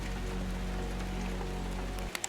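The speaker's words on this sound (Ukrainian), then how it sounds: "а зараз на вечір пішов дощик" Evening rain falling in the mountains, a steady dense patter on surfaces with a low constant rumble, broken near the end by a few sharper clicks and knocks.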